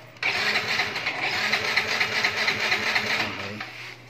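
A Honda Mio 125 scooter's engine is cranked by its starter, giving a sudden onset followed by a steady, buzzing, rapid whirr for several seconds that cuts off near the end.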